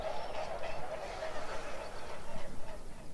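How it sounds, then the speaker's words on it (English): Three mute swans pass by at a nature reserve on a windy spring morning, with faint honking calls under steady wind noise and someone speaking. "We have got a trio of mute swan just passing by there."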